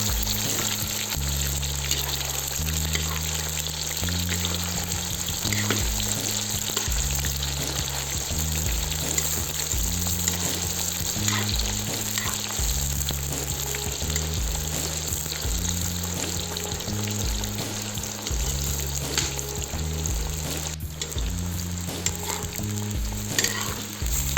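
Chicken fillet and onion sizzle loudly and continuously in a hot pan while cooking Uzbek plov, with intermittent stirring and scraping throughout.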